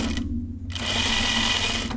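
Sewing machine stitching fabric while sewing a notions case, a close, steady mechanical whir with a rapid needle rhythm, stopping briefly near the start before running on evenly.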